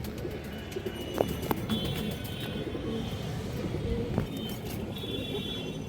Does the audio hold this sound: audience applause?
no